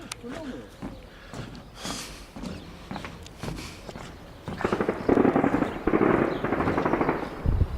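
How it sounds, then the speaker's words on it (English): Gunfire from a shooting range near Hythe, Kent sounds as scattered dull cracks and thumps in the distance, with someone talking over most of it and steady outdoor noise growing louder near the end. "Ah, they're shooting on the range today."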